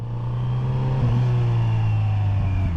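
A 2023 Kawasaki Z900RS Cafe motorcycle under heavy engine braking in first gear, its engine a steady, close, low rumble that shifts slightly in pitch, with wind noise behind it.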